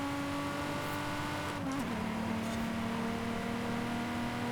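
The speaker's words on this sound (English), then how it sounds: "Lots of wheel spin. Changing gears super slow." A car accelerates hard with a steady engine drone, and its pitch drops once as it shifts slowly to the next gear, holding loud and continuous throughout with no talk.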